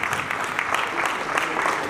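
Applause from a gathered audience at a charter night celebration for a district trainer, steady dense clapping held at an even level from start to end, with faint voices mixed in.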